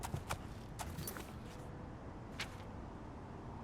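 Horse hooves clip-clopping in the video game Oblivion: a few crisp hoof strikes spaced unevenly in the first half, then one more after a pause, over a steady low ambient bed with no talking.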